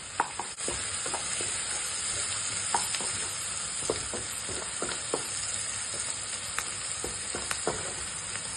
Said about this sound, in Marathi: हळद टाकूया, हलवून घेऊया।